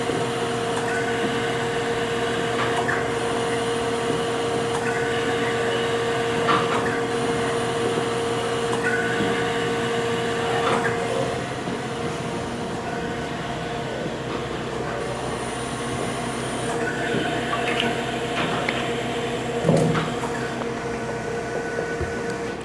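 A 20 x 40 inch Chevalier column-type three-axis automatic surface grinder runs its spark-out pass, a steady close machine hum and whine with faint periodic ticks and clicks from the table traverse.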